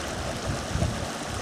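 A small river near a bivouac campsite at the Bouillouses site rushes in a steady, close, broadband wash of flowing water with no pauses.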